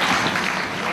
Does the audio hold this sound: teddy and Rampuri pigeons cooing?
no